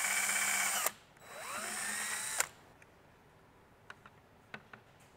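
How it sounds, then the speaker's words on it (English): A power drill bores a hole through a template on a Toyota Tacoma dash bezel: a loud, close whine that stops, then restarts and rises in pitch, followed by quiet clicks and small taps. "we're going to drill that one out first."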